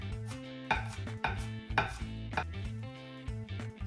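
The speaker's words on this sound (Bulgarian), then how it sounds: "събираме го на една планина и цак, цак, цак, го нарязваме" A kitchen knife chops vegetables on a cutting board for moussaka, giving a quick, steady run of close thuds over soft background music.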